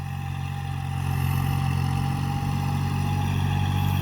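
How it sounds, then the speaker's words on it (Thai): A tractor engine running at a steady idle, a constant low mechanical drone with a faint whine on top, close and unbroken, with no one talking. "ขับรถไถนะ"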